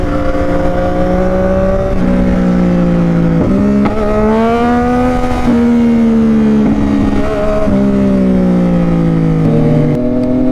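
A Yamaha XSR-900 motorcycle with a drift exhaust revs loudly up close, its engine note climbing and dropping in repeated throttle blips across about ten seconds, alone with no talk.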